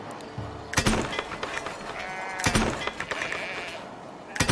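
Sheep on a sheep farm in the city-building game Foundation, several short bleats spaced a second or two apart over a busy background of game ambience.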